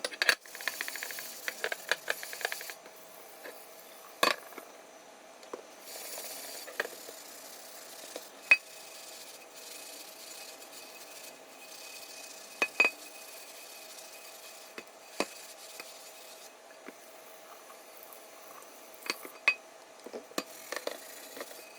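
A Chicago Hardware Foundry 8G cast iron skillet, partway through restoration, is handled and rinsed in a quiet room. Scattered sharp metallic clinks and knocks sound every few seconds over a faint background hiss, with no voices.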